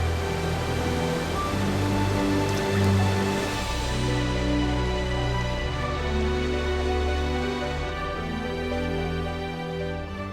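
Heavy rain falling over a tropical forest that floods across vast areas, a dense, continuous roar of downpour holding steady and loud throughout with no voices.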